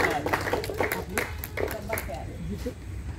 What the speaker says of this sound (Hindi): तालियों की गड़गड़ाहट ज्यादा होनी चाहिए तो मजा आएगा